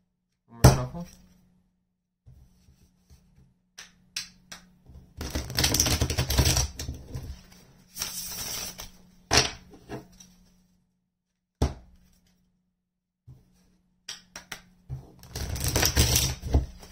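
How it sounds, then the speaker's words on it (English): Tarot cards shuffled by hand in bursts of riffling and soft slaps, with short crisp taps between bursts and quiet pauses, all close up and with no voices. "One more shuffle."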